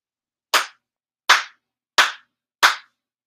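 Four crisp, sincere hand claps during a prayer ritual, evenly spaced with short gaps of silence between them, loud and close with nothing else audible.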